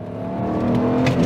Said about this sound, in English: sound of the straight six